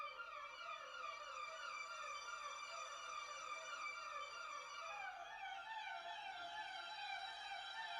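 Layered psychedelic synth texture from the Phonoloop Texture Mosaic plugin, with wavering tones sweeping up and down in a siren-like warble, sustained and steady at moderate loudness with no voices.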